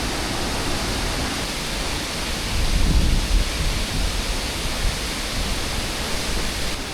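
The Gunbruella waterfall in Sri Lanka, swollen with high water, gives a loud, constant roar that swells briefly near the middle and then carries on unbroken.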